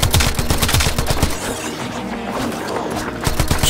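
Loud rapid gunfire from Warframe gameplay, a fast rhythmic string of sharp shots at the start, thinning into a rumbling, crunchy stretch before another burst near the end; no talking over it.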